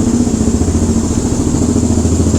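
A 1974 Honda CL360 motorcycle engine runs at a steady idle, a loud, close, even throbbing rumble with no change in pace.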